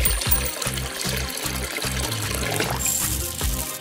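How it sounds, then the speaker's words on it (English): Water pours steadily into a plastic bag holding small toy figures, a close, continuous gurgling splash with a rhythmic pulsing beat underneath. "Throw them in a bag and add some water."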